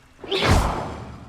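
Levioso levitation spell cast in Hogwarts Legacy, a single rising magical whoosh that swells and fades over about a second, close and fairly loud, alone without talk.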